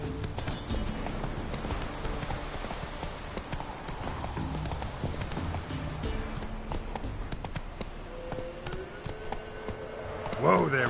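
Roach, a horse in The Witcher 3, gallops with rapid rhythmic hoof clip-clops on the ground, steady and close, with a voice speaking over it near the end.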